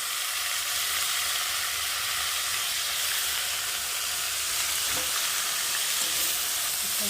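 Snake gourd (chichinga) coated in turmeric sizzles in a hot pan, a loud, even, close-up frying hiss with steam and the odd clink of stirring throughout.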